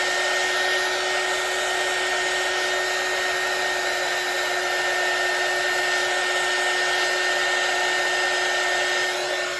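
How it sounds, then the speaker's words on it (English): A heat gun blows hot air with a steady, loud roar and constant high-pitched whine, airflow hissing evenly throughout without pause, running close by. "Let me get my heat gun."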